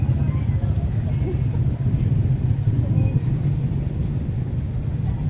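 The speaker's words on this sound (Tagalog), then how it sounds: "Ayan o, may jeep." Jeep on a road at night, a continuous low engine rumble and road noise holding steady throughout, with people talking over it.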